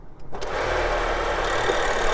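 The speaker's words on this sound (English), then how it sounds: "I'll just remove the engine cover, put the coin on top, get it balanced, start it up." Zeekr SUV's 2-litre turbocharged four-cylinder petrol engine starts with a quick crank, then settles into a steady, loud idle with a constant low hum.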